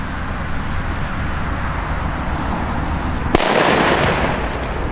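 New Year's firecrackers and fireworks set off outdoors; a steady crackling hiss is cut by one sharp bang, followed by a louder, brighter burst of fizzing and crackle.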